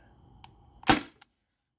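A modified T4E TR68 CO2 airsoft gun fires one 7.2 gram Alien Play ball, a single sharp, loud crack with a couple of faint mechanical clicks before and after.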